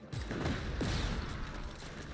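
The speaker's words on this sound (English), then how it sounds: "and they will all explode." Explosions in the open-world action game Just Cause 3 set off a dense, rumbling burst of blasts and crackling debris that fills the short moment, loud and continuous with no talking.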